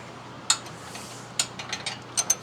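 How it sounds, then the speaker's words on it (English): A 21mm wrench works on a Jeep JL steering linkage at the pitman arm, giving a few sharp metallic clicks and ratcheting taps in quiet surroundings. "start off with 21mm wrench"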